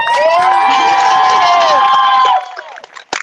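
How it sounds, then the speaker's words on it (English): Wedding guests let out a loud, sustained cheer with whoops and shouts for about two seconds, then it breaks off into scattered voices and a short final whoop. "How about one loud cheer again?"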